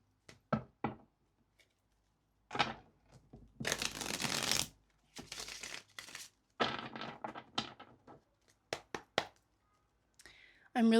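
Tarot cards being shuffled in repeated bursts of riffling and slapping, close and fairly loud, separated by short pauses, with a few soft taps and handling noises between.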